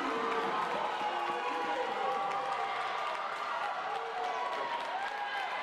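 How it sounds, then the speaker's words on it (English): A crowd cheers and claps at a women's volleyball match in an indoor gym, steady and loud throughout, with shouts and whistles rising over the applause. "The crowd loves it."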